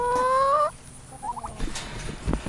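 Several turkeys kept in a backyard pen gobble outdoors: a loud, rapid warbling burst at the start, then a softer gobble and scattered clucks and rustling further off.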